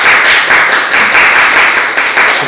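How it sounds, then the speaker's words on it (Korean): An audience at an academic session of the Busan International Performance Art Festival gives loud, close rhythmic clapping that pulses evenly throughout, with no voices. "박수 한번 부탁드립니다"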